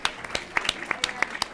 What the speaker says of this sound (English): Yes, clapping is allowed.